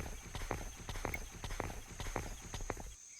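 Horse hooves clip-clop in a steady walking rhythm in a video game, close and clear for a few seconds before stopping.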